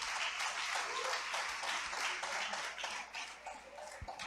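A church congregation claps during a worship service, steady dense applause that swells and fades slightly, with a couple of sharp individual claps near the end.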